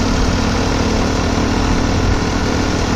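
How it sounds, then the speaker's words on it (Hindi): A tractor pulling a trolley in farm fields runs steadily, its engine a loud, close, continuous low rumble and vibration with no talk. "मैंने कॉल करके ट्रैक्टर ट्रॉली को मंगवा लिया"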